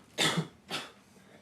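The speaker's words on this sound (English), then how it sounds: "Cough?" Two short, close coughs, the first harsher and louder, the second weaker, with quiet room noise afterward.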